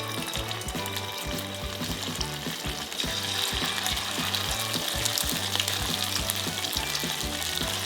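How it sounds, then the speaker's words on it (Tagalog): Marinated chicken frying in hot oil in a pan, a steady loud sizzle and crackle lasting throughout, close up, with a rhythmic low background pattern and no talking. "Ipiprito na natin yung minarinate nating chicken."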